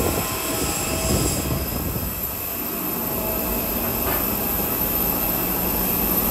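Airbus A320-200 jet airliner of Citylink Indonesia at the airport before boarding, its engines giving a loud, steady roaring whine that holds throughout with slight swells.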